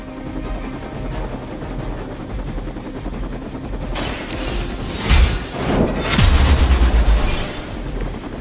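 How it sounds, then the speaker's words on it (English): Combat in the video game Marvel's Midnight Suns as a helicopter returns to action against Hydra: steady rotor-like rumble with loud gunfire bursts and booming impacts in the second half, no talk. "The helicopter is back in action."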